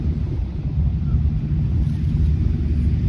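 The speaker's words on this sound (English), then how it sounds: "waves hitting the beach." Waves break on the beach at Long Beach as a constant low, rumbling surge with wind buffeting the microphone, filling the whole stretch without voices.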